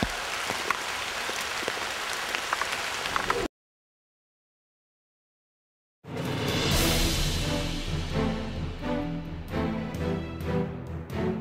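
Rain pours steadily on a surface outdoors, a dense hiss broken by a brief silent gap, then returns louder with scattered heavier drops.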